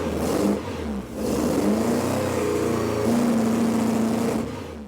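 A Ford Escort ST170 Mk1 engine runs steadily and revs up in sustained, loud pulls, its tone rising and falling over several seconds with no one speaking.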